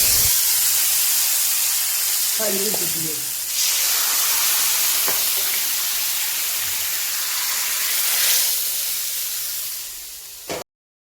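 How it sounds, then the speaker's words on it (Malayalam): Mustard seeds and fenugreek hit hot coconut oil, giving a loud, steady hiss that swells and fades in waves, with a brief clatter midway, then cuts off abruptly near the end. "വെളിച്ചെണ്ണയിൽ കടുക് ഇട്ട് കൊടുത്തു, പിന്നെ ഉലുവ ഇട്ട് കൊടുത്തു"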